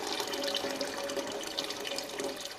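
A kitchen tap runs steadily into a pot, filling it with water for a birria stew, a continuous close splashing hiss with a faint ringing tone from the rising water level, and no voices.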